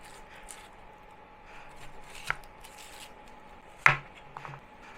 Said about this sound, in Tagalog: mag-iiwa muna ako ng bawang sibuyas